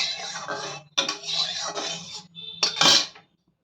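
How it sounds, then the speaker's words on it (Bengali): A metal spatula scrapes and clatters against a wok, spreading hot oil, in several bursts with short pauses between, close and fairly loud. "চারপাশটা একটু ছড়িয়ে নেব খুন্তির সাহায্যে খুব ভালো করে"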